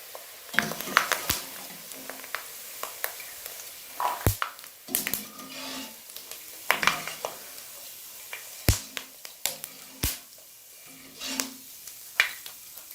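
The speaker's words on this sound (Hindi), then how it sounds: "मैकरोनी को मैं इसके अंदर फ्राई करती हूँ" Macaroni frying in oil gives a faint sizzle, broken by sharp clinks and scrapes of a utensil against the pan at uneven intervals, with occasional talk.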